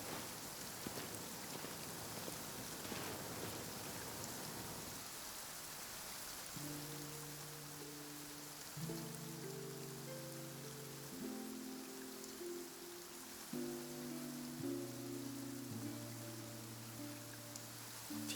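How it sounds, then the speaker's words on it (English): Rain patters steadily on surfaces in the game Genshin Impact, a soft continuous hiss of drops while a gentle melodic music track comes in beneath it partway through. "Rainy days are perfect for spacing out."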